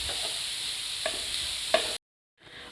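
Sliced onions softening in oil in a frying pan for an egg pepper gravy, giving a soft, steady sizzle with a few light stirring scrapes, before a sudden cut to silence and a faint return.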